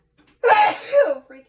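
A single sudden sneeze bursts out close and loud after a brief silence, with a short breathy trail as it fades.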